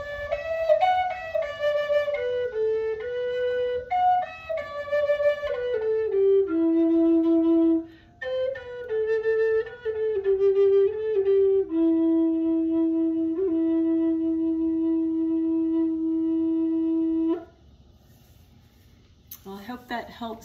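A JD Flutes Special Series E flute plays a short melodic phrase that climbs above its basic six-note range, ending on a long sustained note, close and clear with no talk.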